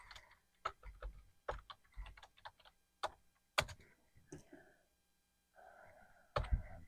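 Quick, uneven bursts of keyboard typing, crisp clicks close by, with a brief pause before a final flurry of keys.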